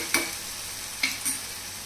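Onion, green chilli and garlic cook over a medium flame in a pan, with a low steady sizzle under two or three brief spatula scrapes up close.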